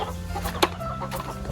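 A chicken clucks briefly, close by at a chicken house on a small farm, over a steady low background hum.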